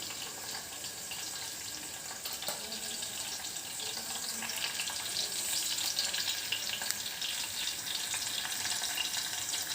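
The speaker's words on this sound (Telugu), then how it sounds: "వీటిని హై ఫ్లేమ్లో ఫ్రై చేసుకుందాం." Paneer biryani ingredients frying over a high flame give a steady, close, crackling sizzle that runs the whole time with no talk, alongside faint stirring and a hint of running water.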